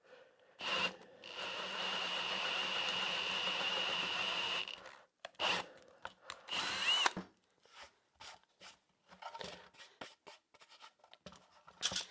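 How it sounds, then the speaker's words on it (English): A portable drill whines steadily for several seconds while a large Forstner bit bores a hole in wood, then stops, followed by short bursts and scattered clicks and knocks. "a large Forstner bit, in my portable drill, and I'm just going to drill that hole"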